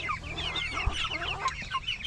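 Several chickens cluck and chatter close by in a busy, overlapping flock, with a soft knock or thump partway through.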